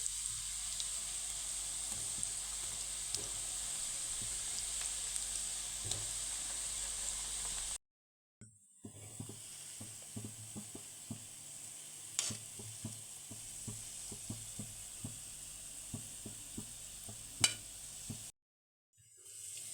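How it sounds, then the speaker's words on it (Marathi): Khoya gulab jamun frying in hot oil over a low flame, a quiet steady sizzle with small crackles and pops, interrupted by short cuts of silence. "आता गुलाबजाम तळताना हे आपल्याला मंद आचेवरतीच तळून घ्यायचे आहेत"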